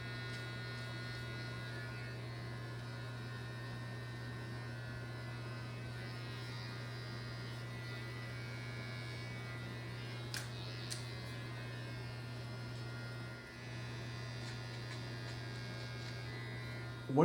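A Panasonic electric beard trimmer runs steadily close by, a constant low buzzing hum with little variation, alone except for a couple of faint brief clicks and a small dip partway through.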